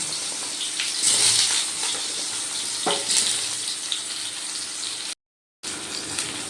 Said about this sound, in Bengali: সেই ঝিঙেগুলো তেলের মধ্যে দিয়ে দিচ্ছি